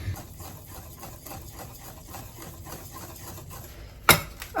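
A spoon stirs eggless rava (semolina) cake batter with milk in a bowl, giving a soft, steady, rhythmic scraping swish that repeats evenly and ends in a sharper clink against the bowl.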